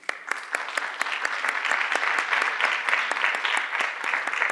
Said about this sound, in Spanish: Les damos un aplauso de cordial bienvenida.